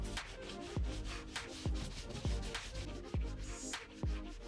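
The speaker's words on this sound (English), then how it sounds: "we're gonna sand it down using a sanding block" Rhythmic scraping strokes of a sanding block rub back and forth across a car body panel, quiet and steady, with periodic soft thumps at each stroke.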